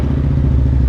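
Harley-Davidson V-Rod Muscle motorcycle idling right after a cold start, a loud, steady, close low rumble with a lumpy pulsing beat, no voices over it.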